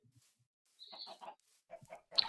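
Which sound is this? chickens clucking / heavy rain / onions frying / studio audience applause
chickens clucking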